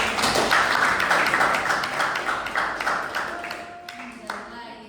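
An audience at an academic debate claps in a dense burst of many hands that thins out and fades over several seconds, with a few scattered late claps near the end and faint voices underneath.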